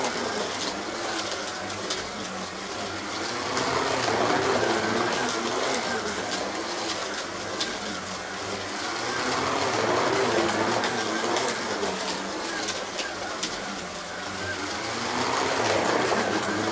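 Carrera slot cars, a Mercedes GT and a Porsche 911, whir around a plastic track in a continuous buzzing drone that rises and falls as they lap, with occasional clicks and a person talking over it.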